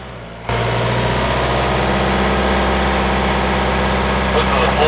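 A Land Rover Discovery 5 engine holds a steady, low droning rumble as throttle is applied at a rocky ledge, the drone starting abruptly and then staying constant and loud, with no revving climb.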